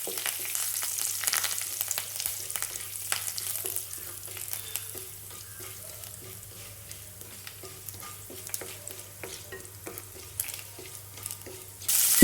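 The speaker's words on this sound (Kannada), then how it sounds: "ಈಗ ಕರಿಬೇವಿನ ಎಲೆ ಹಾಕೊಂಡೆ" Curry leaves sizzle and crackle steadily in hot oil for broken-rice uppittu, with chana dal already frying in the pan. The hiss is loud and continuous, broken by occasional sharp pops and spatters, and no one speaks.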